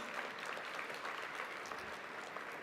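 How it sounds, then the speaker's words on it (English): Audience clapping at an academic conference awards luncheon: a continuous, even patter of many hands, fairly quiet and heard from within the room, without talk. "Is that clapping because you're happy I'm going?"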